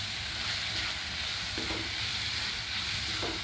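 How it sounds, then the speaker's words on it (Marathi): Finely chopped tomatoes sauté in a pan for a capsicum (shimla mirch) curry, giving a steady, even frying hiss with a few faint stirring scrapes, close and without talk. "टोमॅटो हलकासे मऊ होईपर्यंत आता आपण हे देखील छान परतवून घ्यायचं आहे"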